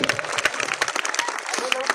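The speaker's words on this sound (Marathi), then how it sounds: "एकदा जोरदार टाळ्या वाजवा स्वतःसाठी" A large audience at a Dhamma conference gathering claps loudly and continuously, a dense wash of applause with sharp individual claps throughout.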